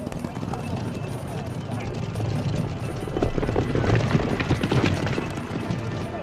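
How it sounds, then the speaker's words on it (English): Rhythmic hoofbeats of horses trotting in a race mixed with a steady rumble and crowd noise, growing slightly louder toward the end. "the horses don't gallop but trot"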